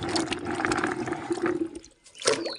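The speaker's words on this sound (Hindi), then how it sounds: "इधर कुछ गर्म पानी में हम इसको एक बार और धो लेते हैं" Indian gooseberries (amla) being washed in hot water, with a steady splashing and pouring rush that drops briefly to near silence before a short final splash.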